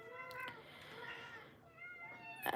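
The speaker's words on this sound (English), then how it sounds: "so hopefully this heat meowing thing will go away with the mama" A female cat in heat meows repeatedly in long, drawn-out, wavering calls, fairly close and clear, with a brief sharper cry at the end.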